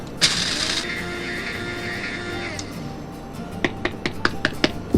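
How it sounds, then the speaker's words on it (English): A grinder runs steadily for a couple of seconds as dark roast espresso beans are ground very fine for a tiramisu, followed by a series of sharp taps and knocks, all close and fairly loud. "It's a dark roast, and we're going to grind it really fine."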